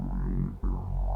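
A neuro bass patch on an MPC, shaped by a talk box formant effect with modulation, growls as a thick, low, vowel-like bass tone for about a second, with a brief dip midway.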